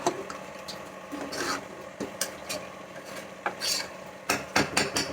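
A ladle scrapes and stirs vatha kuzhambu in a cooking pot, giving irregular close scraping and rubbing strokes with sharp clinks, fairly quiet and alone.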